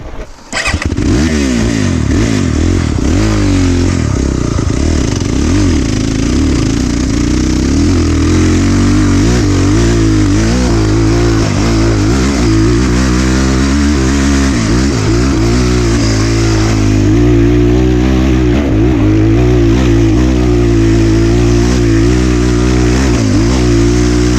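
A motorcycle engine runs loud and close, revving up and down repeatedly with a steady throbbing idle underneath.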